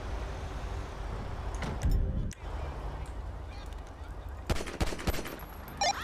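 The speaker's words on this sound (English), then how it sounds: "Shots fired." Gunfire in GTA V with the LSPDFR police mod: a few sharp shots in the middle and a tighter burst toward the end, over a continuous street and traffic rumble.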